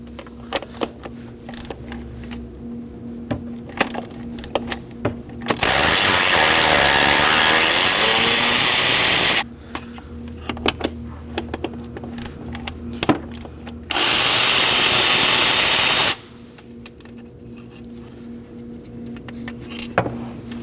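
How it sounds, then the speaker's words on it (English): A power tool spins out lower engine bolts while the throttle body is being removed on a 2011-2016 Kia Optima during a knock sensor replacement. Two loud sustained whirring bursts stand out, with light clicks and tool clatter in the quieter gaps between them. "there's gonna be 2 more bolts at the bottom, so go ahead and take those out."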